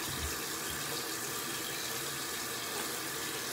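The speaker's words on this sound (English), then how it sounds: "Turn the water on." Tap water runs steadily into a sink for hand washing, a constant close rush of flowing water with no pauses and no voices.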